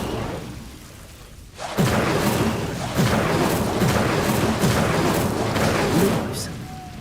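Incendio fire spell cast in Hogwarts Legacy, a burst of rumbling whooshing flame that starts abruptly and roars steadily for several seconds amid repeated low booms from the game.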